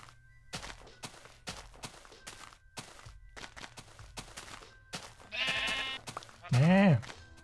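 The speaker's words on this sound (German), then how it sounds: "Können wir gleich mal die Schafe hier abernten" Sheep in the Minecraft video game bleat twice near the end, a short wavering cry followed by a louder one, after a run of soft clicks and steps from gameplay.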